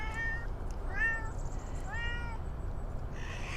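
A farm cat meows four times at roughly even intervals, clear and fairly close, over a low steady background rumble outdoors.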